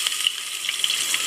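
Fish tail stir-frying in a pan outdoors at Eddie Reef on the Great Barrier Reef, a steady close crackling sizzle with no voices.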